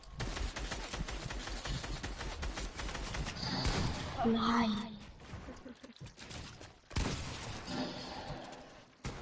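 Rapid bursts of gunfire in an online shooter match crackle in quick volleys with sharp cracks and a short pause, while a player talks over the action.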